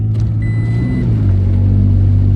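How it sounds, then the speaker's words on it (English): An overland vehicle drives into a mud pit on a forest trail in Oklahoma's Ouachita Mountains, its engine a loud, steady low rumble that swells slightly as it pushes through, heard close up with no talking. "We're gonna blast through this mud pit."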